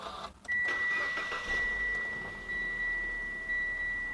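A car engine at a vehicle auction cranks and catches at about half a second, then settles into a steady idle with a thin whine; a chime beeps faintly at intervals.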